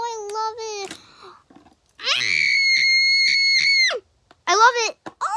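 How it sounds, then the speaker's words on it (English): Person screaming with excitement while unboxing, a short shrill shriek, then a long sustained high-pitched scream, and another rising squeal, loud and close with brief gaps of silence. "Guys, I keep screaming, but it's amazing."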